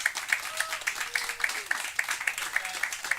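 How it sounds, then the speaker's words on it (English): Live comedy show audience cheering and applauding for a comic, a steady wash of clapping with scattered whoops at moderate level, with faint talk underneath. "when I say the comic's name, go ahead and cheer or stare. David Voss."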